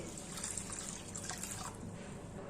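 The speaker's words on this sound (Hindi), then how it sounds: "धोने के बाद अब हम इसमें डाल देंगे पानी" Water poured over washed lentils and rice set to soak for idli batter, a steady continuous splashing and trickling stream close by, with no talking.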